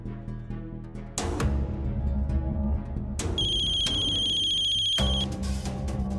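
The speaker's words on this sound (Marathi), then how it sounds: "एवढ्या रातच्याला कोण फोन करताय काय माहिती." A telephone rings late at night in a house, loud electronic ring bursts starting and stopping in a repeating pattern over a low background hum.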